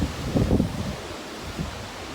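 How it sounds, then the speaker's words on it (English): Strong gusting wind from Tropical Storm Olga in Mississippi, a broad rushing roar buffeting the microphone, with louder gusts early that ease and return briefly, no talking. "I mean, it feels good, but the wind is something serious."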